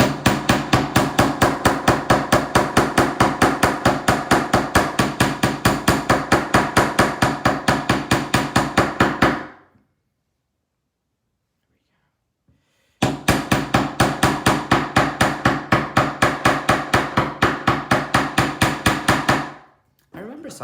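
A hammer taps silver jewelry wire in a fast, steady run of sharp metallic strikes, loud and close. About ten seconds of hammering is followed by a short silence, then another long burst.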